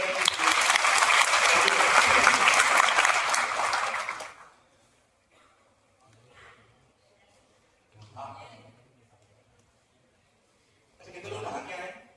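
Audience applause at a college gathering at IIT Delhi, loud dense clapping for about four seconds that stops abruptly, followed by quiet room sound and brief talking.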